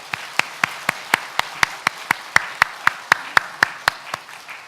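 Steady rhythmic clapping from a church congregation, about twenty sharp claps at an even pace, fairly close and bright, with no voices over it.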